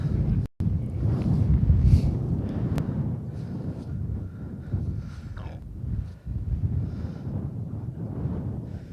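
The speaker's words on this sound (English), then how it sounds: "It's a strong wind." Strong, gusting wind buffets the microphone on an open golf course during an amateur championship final round, a continuous low roar with surges and brief dropouts, and no clear talk.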